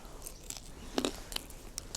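A few faint crisp bites and crunches into crusty homemade sourdough panettone with toasted almonds, with a sharper crunch near the middle, close and quiet.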